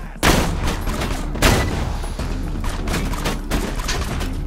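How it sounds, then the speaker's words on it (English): Enemy gunfire in the video game Borderlands 2 rattles loudly in dense, continuous bursts with sharp shot impacts throughout. "People, can you stop shooting at me for a second?"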